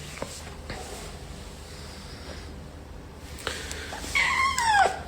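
A pet cat meows near the end, its rising and falling calls standing out over a faint steady background indoors.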